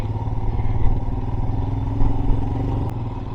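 A motorcycle engine chugs and rumbles up close at low revs on a rough, steep off-road mountain track, with a light clatter of the bike over uneven ground.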